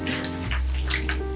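Water premixed with plant nutrients sloshes inside a shaken gallon jug, a close, continuous gurgling churn with brief splashy peaks.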